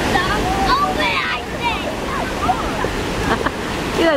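Ocean waves break and wash in at a beach surf camp, a steady loud roar of surf with wind buffeting the microphone while people talk and shout over it.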